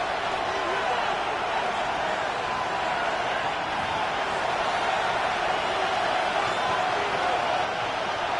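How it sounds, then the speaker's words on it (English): A football stadium crowd in a Raiders versus Chiefs game roars in a dense, sustained wall of noise before a third-and-inches play, steady and loud from start to finish. "This crowd, they're trying to force a false start. What noise before 3rd and inches."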